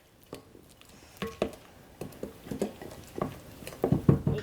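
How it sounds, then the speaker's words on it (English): Mashed bananas are stirred into muffin batter in a bowl, producing soft wet squelching and tapping strokes that grow steadily louder and quicker, up close with no talk. "And Erin, you keep stirring."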